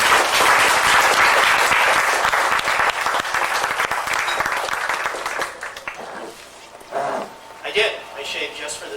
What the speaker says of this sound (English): So let's give Barry a round of applause.